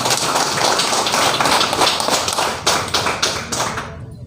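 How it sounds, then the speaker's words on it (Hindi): A crowd at a family business meeting in Ranchi claps together for everyone, a dense, loud, steady burst of applause that holds for several seconds before tapering off at the end, with no talking. "एक बार सबके लिए ताली होनी चाहिए।"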